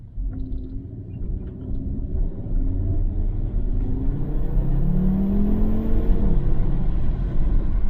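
A 2012 Audi RS3 hot hatch accelerating hard on an open, straight road, its engine a loud, steady rumble heard from inside the car that climbs in pitch and builds in strength over several seconds, with no talking.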